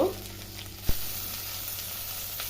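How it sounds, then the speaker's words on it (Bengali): Pointed gourds frying in mustard oil crackle with a quiet steady sizzle, broken near the start by a single sharp knock of a utensil against the pan. "এবার পটলগুলো উল্টে পাল্টে লাল লাল করে ভেজে নিব"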